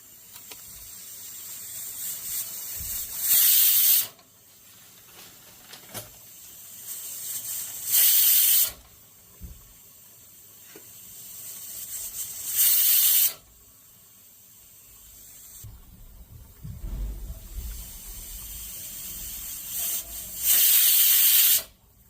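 A pressure cooker with its lid shut, cooking a Maharashtrian vajri dish in a home kitchen, lets out bursts of hissing steam at steady intervals, with quieter rumbling between the bursts and no talking.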